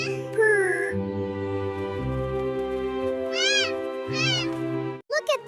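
A cartoon cat and kittens meow in a string of loud, drawn-out calls, some rising and falling in pitch, heard close and clear with a brief break near the end.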